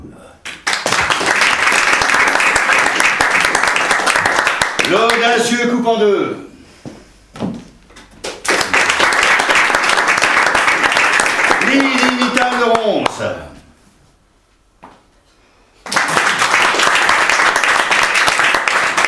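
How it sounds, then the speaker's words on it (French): Bursts of audience applause at a theatrical cabaret-style presentation in Paris, three loud sustained rounds of clapping alternating with a voice announcing performers in between. "On peut applaudir."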